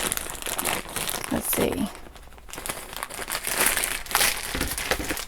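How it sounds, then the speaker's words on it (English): Many plastic bags crinkle and rustle loudly and continuously while vintage toys are unpacked from an estate haul, close up, with a person speaking briefly over the noise. "This video is going to be a little noisy because there's so many bags"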